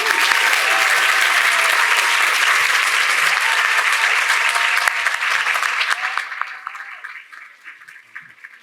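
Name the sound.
audience applause for panelists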